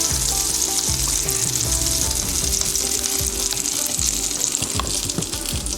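A steak sears loudly and steadily in a hot pan, cooking a little past rare, with a constant crackling sizzle and no one speaking.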